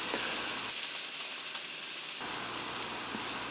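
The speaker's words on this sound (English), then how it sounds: "So, as you can see, I'm searing it." Beef searing in a pan for beef barley soup gives a steady broadband sizzle that runs the whole time, briefly dipping at the low end mid-way, with no talking.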